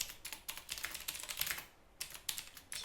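Rapid bursts of typing on a computer keyboard, close and fairly quiet, with a brief pause in the middle before the keystrokes resume; no voices.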